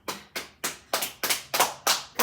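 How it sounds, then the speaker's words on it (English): A small group claps in a round of applause, seven or eight distinct, evenly spaced bursts of hand claps, close and clear with no talking over them. "Let's give a round of applause for it."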